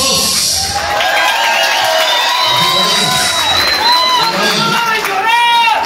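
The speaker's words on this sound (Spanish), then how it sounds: "Eso, los aplausos." A lively concert crowd in Aurora, Illinois cheers, whoops and claps loudly and continuously, with high shouts rising over the noise.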